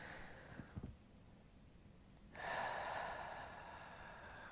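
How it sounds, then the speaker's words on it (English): Deep breath drawn in and let out during a calming relaxation exercise, a few soft snorty intakes near the start, then a long, fairly loud hissing exhale filling the rest of the moment alone without talk. "take a big, deep breath in"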